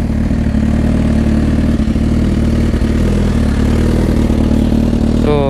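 A Suzuki GSX-R1000 motorcycle engine with a custom exhaust idles loud and close with a deep, throaty burble, holding steady before a brief rev at the end.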